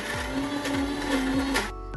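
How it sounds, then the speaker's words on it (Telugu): Kitchen mixer grinder blending carrot chutney, a loud steady motor whine with several rhythmic surges, then cutting off near the end as the motor spins down. "ఇప్పుడు మిక్సీ పడతాం."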